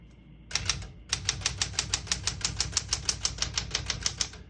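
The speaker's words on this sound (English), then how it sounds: "We're going to keep that on single and finish typing." A 1969 Smith-Corona Super-Sterling portable typewriter is typed on: a short burst of key strikes, a brief pause, then a steady run of about twenty evenly spaced clacks, close and crisp with no talking.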